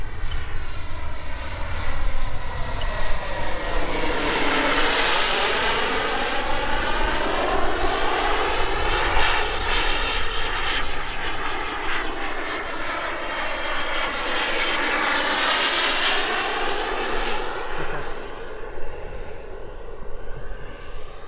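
A Sebart Mini Avanti model turbine jet flies past with a loud, steady whine, its pitch sweeping as it passes and comes around again, close and continuous without any voices.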